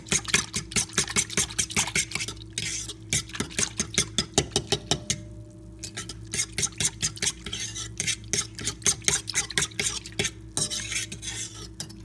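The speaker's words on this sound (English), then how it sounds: "I'm going to use a fork to make sure I get all that yeast dissolved inside there" Yeast and sugar stirred with a fork to dissolve them, giving rapid rhythmic clinks and taps against the bowl that run in bursts with brief pauses, close and clear, with no talking.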